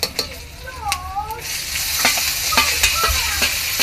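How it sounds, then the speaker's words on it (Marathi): Onion sizzles in hot oil with garlic, curry leaves, cinnamon and whole spices for an egg curry, a steady close frying hiss broken by sharp scrapes and knocks of a stirring spoon against the pan. "हा कांदा चांगला गोल्डन कलर होईपर्यंत आपण भाजून घेणार"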